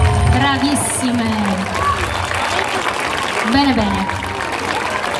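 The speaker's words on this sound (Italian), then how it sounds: "Prendetevi tutti l'applauso" An audience claps for a dance performance at Campo Felice, the steady applause filling the whole moment while someone speaks briefly over it.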